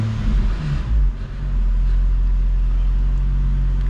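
A car engine, likely a G35/350Z-type Nissan being worked on during an A/C recharge, rises briefly as the gas pedal is pressed, then settles into a loud, steady low rumble; no talk is heard.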